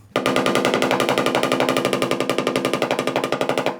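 A panel inside the cab of a first-generation Toyota Tacoma is struck in a fast, steady stream of loud metallic blows, dozens of evenly spaced hits without a pause.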